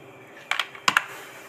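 A few keyboard key clicks come in two quick pairs, sharp and close, over a faint steady background hum.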